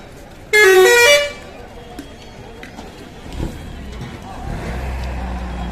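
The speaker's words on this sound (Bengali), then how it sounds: "বড় বাস স্ট্যান্ড বলতে পারো ব্যস্ততম বাস স্ট্যান্ড" Loud multi-tone horn blast at a busy bus stand in Bankura, lasting under a second, followed by idling engines, traffic rumble and background chatter.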